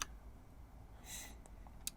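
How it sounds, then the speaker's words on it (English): Sharp clicks right beside the microphone, a couple of crisp taps near the start and another pair near the end over a quiet background. "Sorry if my clicking is louder because my microphone is right by my hand."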